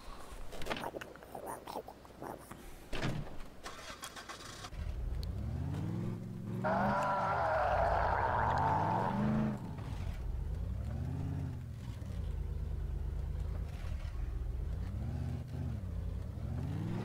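A car engine in the zombie game Dead Island starts with a few clunks, then hums and revs in rising and falling waves, loudest in the middle and steady toward the end.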